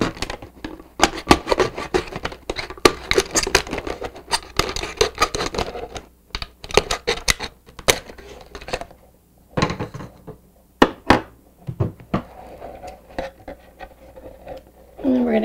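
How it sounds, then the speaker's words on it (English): A craft knife cutting the top off a plastic water bottle, with irregular crackling snaps, scrapes and clicks of the plastic at close range, sporadic and uneven, pausing now and then, with brief bits of voice. "You're going to cut the top off first."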